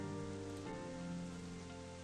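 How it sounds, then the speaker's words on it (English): Rain falls in a video game setting as a steady, even patter over a low constant hum, moderately faint and without talk. "shielding from the rain"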